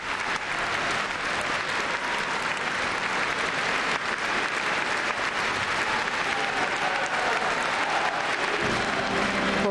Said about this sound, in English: Receiving much applause,